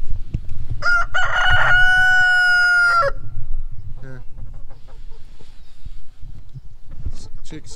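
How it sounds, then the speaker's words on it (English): A rooster crows loudly and long, followed by scattered clucking from chickens, with outdoor background noise throughout. "Chickens."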